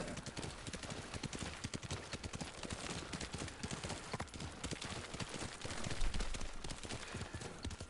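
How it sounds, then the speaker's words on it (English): Horse hooves pound in a fast, continuous gallop in Ghost of Tsushima, loud and close, with a dense rumble of game sound beneath and no talking. "It's easier to get around on the horse."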